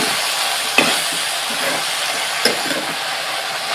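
Chopped thutu vegetable curry being stirred in a pan, steady sizzling hiss from frying with two sharp clicks of the spoon scraping against the pan, close and continuous without talk.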